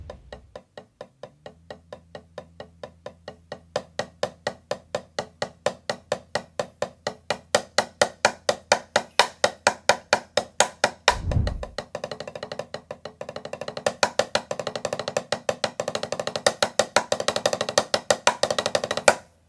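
Drumsticks on a practice pad tap a fast, even stream of strokes that starts soft and grows steadily louder, with a brief low thump midway and a faint sustained low tone underneath.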